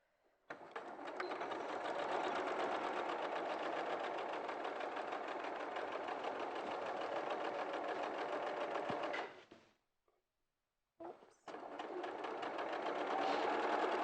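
A domestic sewing machine runs steadily through fabric while blocks are pieced, a loud continuous mechanical whir that stops briefly near the end, then starts up again at full speed.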